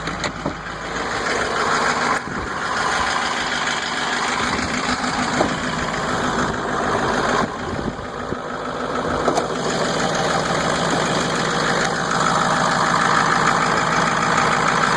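A truck engine idling steadily after a cold start on a cool day in the low-to-mid 50s, its even mechanical drone loud and close throughout with a few small bumps and no talk.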